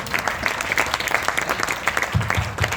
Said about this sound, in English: A huge round of applause should be there for TIC.